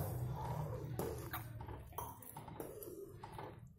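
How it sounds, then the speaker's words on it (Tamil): Semolina pours into a pan for tamarind rava upma, followed by scraping and clinking as a utensil stirs against the metal, with faint sizzling underneath. "இப்ப நம்ம ரவை கொட்டி நம்ம கலந்துடலாம்."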